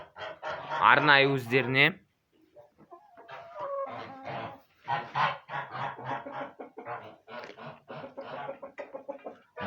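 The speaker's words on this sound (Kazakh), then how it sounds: "Брама тауықтарым" Brahma chickens in their coop, with one loud, drawn-out squawking call at the start, followed by someone speaking over faint background clucks.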